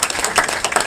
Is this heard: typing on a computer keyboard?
no